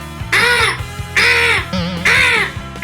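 A crow caws three times, loud and harsh, with short pauses between calls; a faint low background hum runs underneath.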